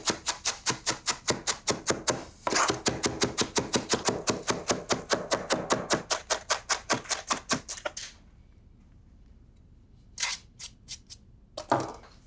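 Big chef's knife slicing Romano peppers for piperade on a cutting board, a fast, even run of crisp thuds, pausing briefly then resuming, before stopping; a few scattered knocks follow in near silence.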